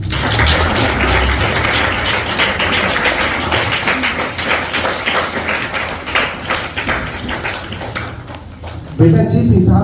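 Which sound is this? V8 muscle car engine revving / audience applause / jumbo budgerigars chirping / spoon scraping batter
audience applause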